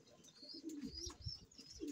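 Homing pigeons coo softly nearby, low throaty murmurs overlapping with a few faint chirps and soft background noise.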